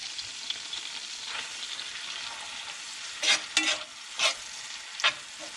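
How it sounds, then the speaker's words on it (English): Chopped mushrooms sizzling in butter in a pan, a steady frying hiss throughout with several louder scrapes and bursts as they are stirred. "I've got some chopped mushrooms here. We're just going to add those."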